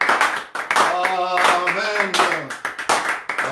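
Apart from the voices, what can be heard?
audience clapping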